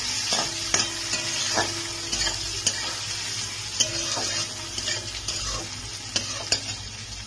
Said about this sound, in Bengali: পেঁয়াজটাকে একটু আমি হালকা করে ভাজা ভাজা করে নিচ্ছি।